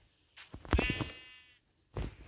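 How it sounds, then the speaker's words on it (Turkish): A sheep in the video game Minecraft gives a single wavering bleat, close and clear against a quiet background, followed by a short extra noise. "Buradaki koyunları keselim."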